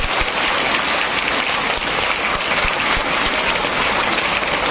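Audience at a road safety talk on minors not driving vehicles breaks into loud, sustained applause, a thick wash of many hands clapping continuously at close range.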